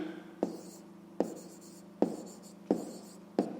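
A pen writes on paper during a 5th-grade math exercise, giving five distinct scratchy strokes at a steady rhythm, close and clear, with no voice over them.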